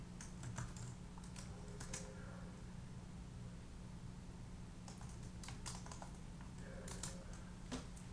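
Code is typed on a computer keyboard in quick clusters of key clicks separated by pauses, close but soft over a low steady hum, with no voices.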